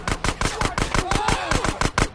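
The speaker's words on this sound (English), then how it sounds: "Oh, they shooting at me." Rapid, loud gunfire rattles in bursts in the video game GTA San Andreas, with a steady rhythm of close shots.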